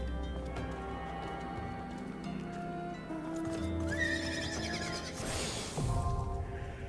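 Horse in a Final Fantasy online video game, clip-clopping hooves over background music, then a loud, rising whinny late in the passage, no one speaking.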